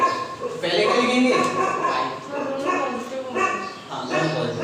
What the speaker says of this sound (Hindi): ये रिकॉर्डिंग में कुत्ते की आवाज आ रही है